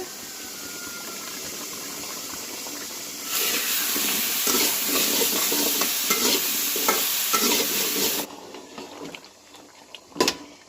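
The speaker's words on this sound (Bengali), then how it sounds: "মাংসটা কষানো প্রায় হয়ে গেছে" Beef sizzles and hisses loudly as it is stir-fried (koshano) in a pan, with a fuller burst of frying and stirring scrapes in the middle before it settles to a quieter sizzle with a few sharp clicks.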